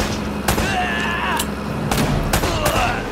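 Gunfire in Uncharted: Drake's Fortune Remastered on PS4: five sharp, loud shots at irregular intervals, with tonal background sound between them.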